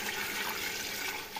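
Eight cups of water are poured into a cooking pot holding five cups of rice, giving a steady, splashing rush of liquid that continues for the whole short moment without talk.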